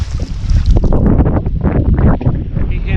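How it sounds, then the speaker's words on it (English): Loud, gusty wind buffets the microphone with a constant roaring rumble on Wheeler Lake during a bass fishing tournament, no voices. "It is windy and nasty."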